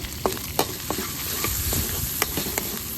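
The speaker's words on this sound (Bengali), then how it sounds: "এবার একটু মশলা কষাবো। প্রথম দিলাম হচ্ছে আদা হলুদ" Ginger and turmeric spices frying and being stirred in a pan at an outdoor riverside campsite, a steady sizzle broken by several sharp scraping stirs, close and fairly loud with no talking.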